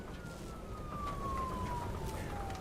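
In a video game, a police car siren wails faintly in one long falling tone over a low engine rumble.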